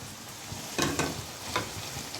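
Shrimp dropped into a hot pan of Bengali-style banana-flower mocha and stirred, giving a steady faint sizzle with a few louder scraping, clattering bursts of the spatula.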